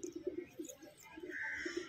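Pair of Madrasi pigeons, a black-faced male and a female, cooing softly in a short series of low, rounded calls, fairly faint and close, with no talking over them.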